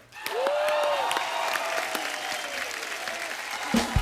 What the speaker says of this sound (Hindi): आप सबकी जोरदार तालियों के बीच स्वागत करना चाहूंगा वेरी टैलेंटेड, आप सबकी favourite, please welcome Neha Kakkar